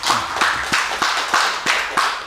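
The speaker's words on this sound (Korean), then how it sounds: "하나님께 영광의 박수 올립시다" A church congregation at a Sunday service claps together in a steady rhythm, about seven evenly spaced claps in a couple of seconds, moderately loud with no voices over it.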